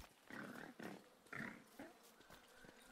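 Cartoonish pig grunts and oinks from the video game Don't Starve Hamlet, three short snorting squeals in quick succession followed by softer snuffles, faint and close with no talk.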